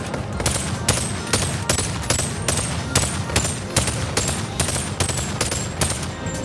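A rifle with a holoscope fires in Boneworks, a VR game, in evenly spaced shots about twice per second, each a loud, close crack over a steady background.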